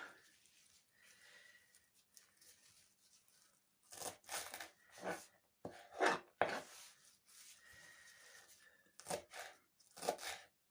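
Parsley being chopped with a knife on a wooden board while preparing okroshka, heard as scattered bursts of quick, close chopping strokes separated by quieter pauses.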